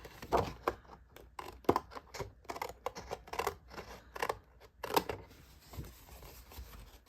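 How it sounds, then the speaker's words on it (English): Scissors snip along a score line on a paper or card sheet, a quick series of close, crisp cuts with brief pauses between strokes and no talk. "We're going to cut straight up on that score line."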